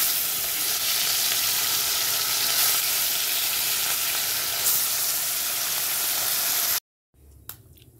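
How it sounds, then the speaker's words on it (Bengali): Turmeric-coated fish frying in oil in a frying pan, a loud, dense, continuous sizzle close up that cuts off abruptly near the end, followed by faint handling noise. "এবার এখানে ফ্রাই প্যানে তেল দিয়ে দিয়েছি, দিয়ে এবার মাছগুলো ভাজবো"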